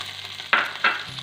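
Butter in a pan for white sauce, with two short bursts of sizzling over a quiet background hum, each crackle flaring up and quickly fading.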